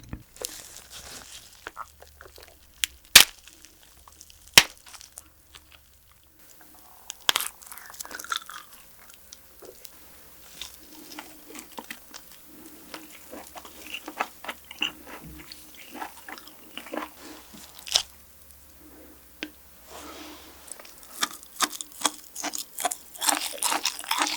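Close, crisp crunching and wet chewing of a giant crayfish, with sharp cracks of shell and softer squishy bites recurring steadily over a quiet background.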